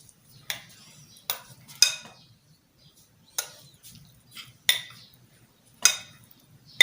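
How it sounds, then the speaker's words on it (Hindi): Spices being mixed and pounded in a stone mortar, sharp clacking strikes repeated at an uneven rhythm about once a second, close and crisp over a faint low background. "हम ले रहे हैं पत्थर के कुंडे के अंदर ये सारी चीज़ें मिक्स कर लेते हैं।"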